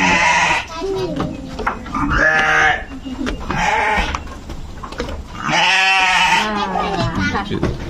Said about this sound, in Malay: Kambing biri-biri.